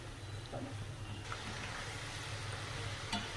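Lentils (dal) frying in hot oil give off a soft, steady hiss with a low background hum and a few faint clicks from the pan, with no voices.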